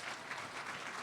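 Brief, faint patter of audience applause at a community talk, a soft diffuse wash of clapping heard from a distance with no clear individual claps.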